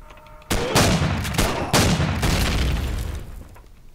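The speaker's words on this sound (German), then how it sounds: "Einer schießt auf mich" Several loud, close video game gunshots in Empyrion: Galactic Survival fire in quick succession, each with a booming echo, then trail off.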